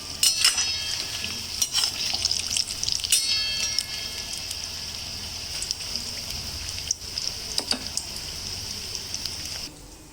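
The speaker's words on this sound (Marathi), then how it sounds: "आणि इथे बटाटे वडे तळत आहे." Batata vada, mashed potato balls in batter, frying in hot oil, giving a steady close crackling sizzle with a few brief louder pops and spatters throughout.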